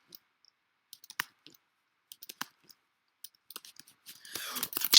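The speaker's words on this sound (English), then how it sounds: "I'm just, spamming random things on my keyboard." Random keys hammered on a computer keyboard during a parkour game, sparse sharp clicks in irregular bursts, close and quiet, ending in a louder rustling clatter.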